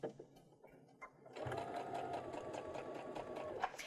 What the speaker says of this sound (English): And now I'm just going to begin slowly stitching.